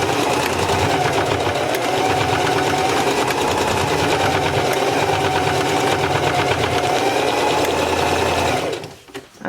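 A sewing machine runs at steady high speed, stitching back and forth over the cord of a drawstring backpack with a dense, continuous mechanical whir, then stops abruptly near the end.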